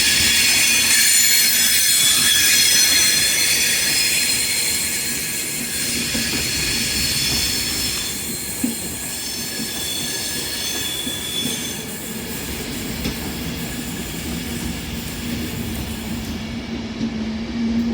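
A passenger train working a London Euston to Edinburgh Waverley service passes through Carlisle station on the West Coast Main Line, its wheels squealing and a steady rolling rumble sustained loud and close throughout.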